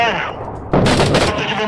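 Gunfire in the video game Six Days in Fallujah comes as a sudden loud burst of sharp shots that follows a stretch of quieter sound.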